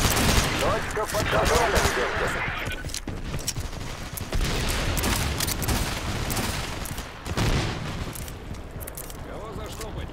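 Gunfire rattles continuously through a team-based video game firefight, with dense bursts and booming blasts that may include a grenade explosion, while a player talks over the shooting.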